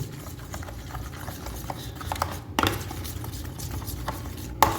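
Fish being mixed by hand or spoon with marinade spices, a steady close run of wet, scraping and tapping strokes, moderately loud and continuous, with no voices.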